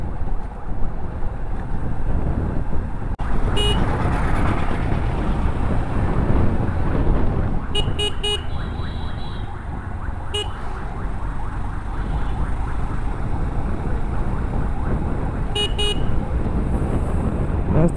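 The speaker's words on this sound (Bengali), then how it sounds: "এটা বলতে bus terminal, Dinajpur bus terminal." Dense street traffic roars steadily at the Dinajpur bus terminal in northern Bangladesh, with loud car and bus horns honking in short repeated bursts over the constant engine rumble.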